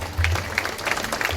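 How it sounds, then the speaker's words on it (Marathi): Village audience clapping to welcome a singer at a temple event, a short burst of dense applause from a nearby crowd. "जोरदार टाळ्या।"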